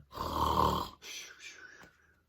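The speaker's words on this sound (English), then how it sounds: "But the bear snores on" A loud, rasping snore swells on the inhale, followed by a softer, wheezy exhale trailing off.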